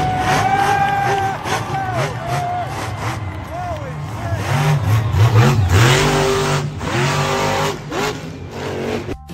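A monster truck engine revs loudly in repeated rising and falling sweeps, close and continuous, with a voice talking over it.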